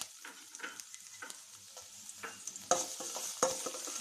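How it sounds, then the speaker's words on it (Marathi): Grated ginger sizzles and fries in hot oil in a pan, a steady close crackle with stirring scrapes and a few louder bursts near the end, no voices. "आता मी इथे किसलेलं अद्रक टाकत आहे"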